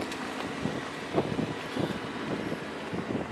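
Steady wind buffets the microphone with a low, rumbling whoosh and occasional gusts, continuous throughout.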